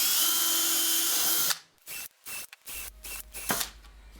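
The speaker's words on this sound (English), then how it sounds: "To avoid this, we'll pre-drill the holes." A power drill pre-drills holes in pallet-wood box end boards for a pallet table. It gives a loud, steady whir for about a second and a half, then stops, followed by short bursts of handling and clatter.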